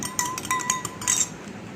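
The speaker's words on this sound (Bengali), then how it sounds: "এই মধু এক চামচ দিয়ে এইভাবে নেড়ে" A spoon stirring honey in a glass makes quick, light metallic clinks close by, several ringing taps in a short burst with no talk.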